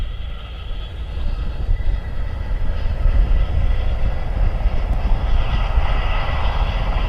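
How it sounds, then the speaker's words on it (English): Two Chinook helicopters rumble in the distance at an airshow at Odiham, a steady low drone that swells slightly as it goes on, with no voices. "I can hear 2 Chinooks in the distance"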